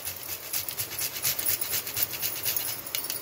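Whole nutmeg is grated by hand over a modak filling, giving quick repeated rasping strokes, close and fairly soft, in an even rhythm with no talk.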